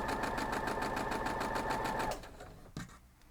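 A sewing machine stitches down a scrappy folded-corners quilt block, running fast and steady for about two seconds, then stopping, followed by a soft thump of handling.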